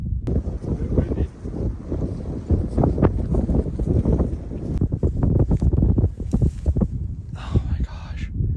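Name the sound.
wind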